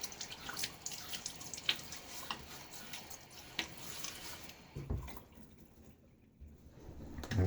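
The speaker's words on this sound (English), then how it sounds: "Cold water." Cold water runs from a tap during a wet shave, a steady hissing splash close by that thins out and quiets toward the end.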